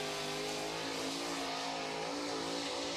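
A number 1 race car driven by 17-year-old Josh Richards on a qualifying lap, its engine droning loud and steady with sustained harmonic whine throughout, no talk over it.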